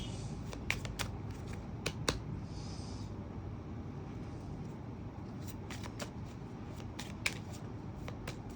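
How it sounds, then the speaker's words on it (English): Tarot cards being shuffled by hand, a steady soft riffling texture with sharp card snaps and clicks scattered through, close and fairly quiet with no talking. "I'll again shuffle the cards."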